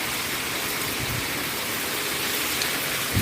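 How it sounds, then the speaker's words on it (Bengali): Heavy rain from Cyclone Remal pours in a steady, dense hiss at close range, with no breaks and no talking over it. "এত বৃষ্টির আওয়াজ হচ্ছে।"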